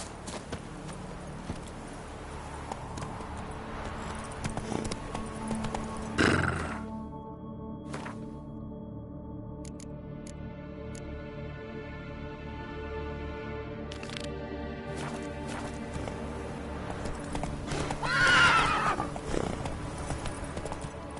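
Roach the horse trotting in The Witcher 3, hooves clip-clopping in a steady rhythm with a brief neigh, over game ambience and music.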